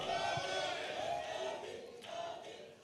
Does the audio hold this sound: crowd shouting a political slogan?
yes